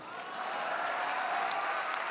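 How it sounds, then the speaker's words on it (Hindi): Steady audience applause at a Hindi comedy show, a dense even wash of clapping lasting a couple of seconds with no voices over it. "फिर तालियां बजाइए"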